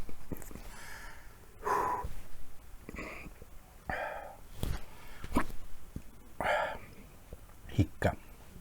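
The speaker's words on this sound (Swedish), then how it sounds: "Hicka." Repeated short hiccups, about six sharp catches of breath spaced irregularly, from a person after eating hot chili candy, close up with breathy noise between them.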